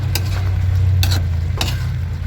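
A spoon stirs chicken adobo simmering in coconut milk, with three distinct scraping strokes over a steady low bubbling and sizzling from the pot, close and clear with no voices.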